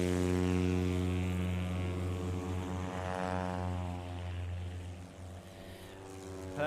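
A STOL competition airplane lifts off in a short-takeoff contest at the Central Florida Classic finals, its propeller engine droning loud and steady with a strong harmonic hum that eases slightly as it climbs away.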